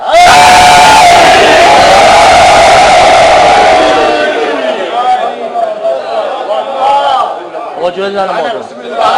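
A large crowd at a religious majlis gathering shouts devotional slogans in unison, a loud roaring chant that fades into scattered voices and murmured chatter, with a lone voice rising near the end.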